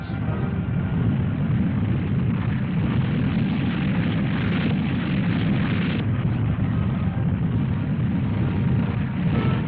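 A Convair B-60 eight-jet bomber flies overhead, its engines making a loud, continuous broadband roar that holds steady and dense for the whole stretch, with no other sounds breaking through.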